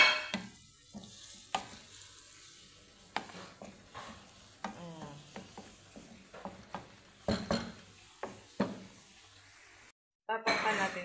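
Bottle gourd sautéed with sardines is stirred in a boiling pan, giving a run of scraping, clinking utensil strokes over a soft simmering sizzle, with a voice talking between the strokes.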